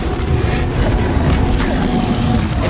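A Bombarda blast spell going off in Hogwarts Legacy, a loud, dense explosive rumble with a crackling burst that fills the moment with no talk.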